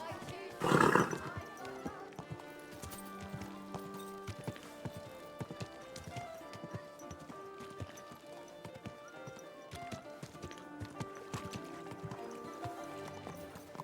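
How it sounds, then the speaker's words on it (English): A horse in the medieval video game Kingdom Come: Deliverance II, near Kuttenberg, snorts and whinnies loudly near the start, then its hooves clip-clop steadily at a walk over game music for the rest of the stretch. "Easy, good horse."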